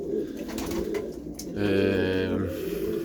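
Racing pigeons coo close by in a loft, a low throaty call swelling midway over a steady background murmur, with no voices.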